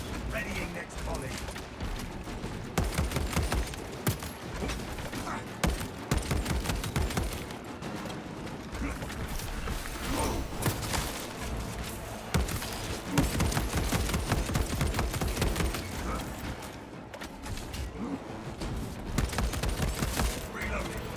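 Rapid gunfire volleys from a marksman carbine in the Space Marine video game crackle in dense bursts, close and loud, with mechanical clanks and game effects layered throughout.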